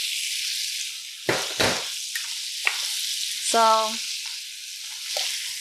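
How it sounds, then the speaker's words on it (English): Spinach, about two cups, sautéing in a single pan for a vegan breakfast hash, giving a steady hiss of frying with a few sharp clinks and a brief utensil scrape nearby. "we're going to add in the spinach"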